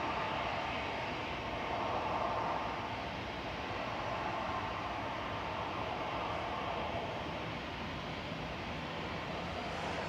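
Early-morning jet aircraft descending toward Bristol Airport, heard as a distant, steady broadband roar that holds level for about ten seconds with no voices.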